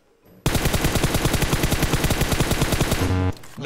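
A loud, rapid burst of automatic gunfire rattles without pause for about three seconds, then cuts off abruptly; no talking is heard.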